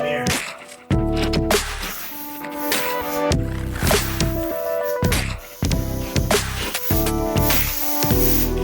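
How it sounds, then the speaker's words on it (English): Soapy water sprayed from a spray bottle over an inflated tire to locate a leak, in repeated short hissing bursts, close and fairly loud, over steady background noise. "spray it down with soapy water to find out where it's leaking from."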